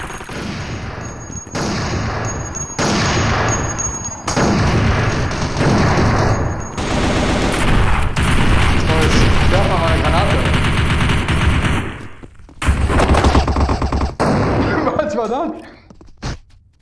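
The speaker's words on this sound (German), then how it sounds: "Geil, die Granate ist sogar noch hochgegangen." Virtual Army: Revolution VR game combat: loud, close machine-gun bursts and single shots in rapid runs, then a heavy grenade blast, with someone talking over the action.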